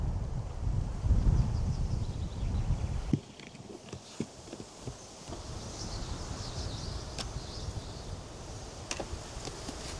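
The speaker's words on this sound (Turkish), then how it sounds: "Ne kadar fazla rüzgar var. Şuna bak, her şey uçuyor." Strong wind blowing across a campsite, roaring and buffeting loudly for a few seconds before easing into a softer, steady rush with scattered light rustles and taps.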